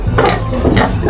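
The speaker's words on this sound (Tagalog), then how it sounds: "Ayan guys yung yung baboy." A pig grunts in short, low bursts, a couple of them spread across a brief moment and heard fairly close against a steady background.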